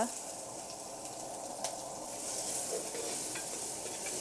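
Onions fry with ginger and garlic in a pan for a Kundapura-style country chicken curry, giving a steady close sizzle and hiss with occasional stirring scrapes throughout.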